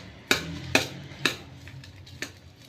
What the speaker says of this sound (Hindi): अब इन चीज़ों को हम मिक्स करेंगे